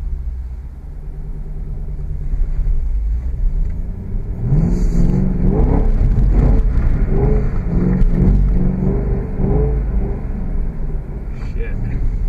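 A Ford Mustang engine revs hard on a snowy winter day, its tires spinning as it nearly gets stuck, with a rising, surging rumble after a quieter idle and a person talking over it.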